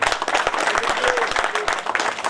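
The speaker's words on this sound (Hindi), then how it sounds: "तालियां भी बजा दिया करो।" Crowd clapping at an outdoor neighbourhood public meeting in Nizamabad, uneven sharp claps from a modest group with a faint murmur of voices underneath.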